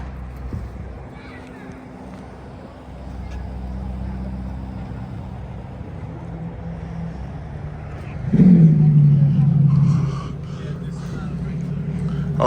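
A Lamborghini Temerario supercar engine fires up at an outdoor car party, a sudden loud rising roar over the steady crowd murmur that then settles into a lower idle rumble.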